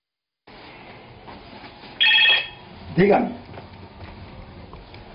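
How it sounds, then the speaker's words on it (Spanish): A phone rings with a short electronic trill, followed by a brief burst of another tone, over a low background hum. "El teléfono de Gabriel suena después de dos meses"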